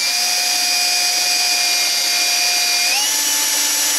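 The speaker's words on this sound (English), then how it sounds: "Yeah, that didn't drill too bad." A power drill bores a pilot hole with a drill bit, a steady high-pitched whine that holds constant, then shifts slightly upward in pitch near the end as the bit breaks through.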